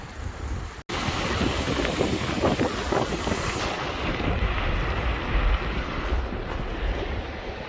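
Ocean waves and gusty wind at sea from a fishing boat, a continuous broad rushing wash with buffeting wind on the microphone, a brief dropout near the first second, then steady surf noise without talk.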